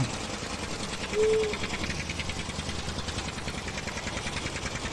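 A homemade Indian jugaad vehicle's engine in Farming Simulator 19, a constant rapid mechanical chugging drone that holds steady throughout at moderate loudness with no talk.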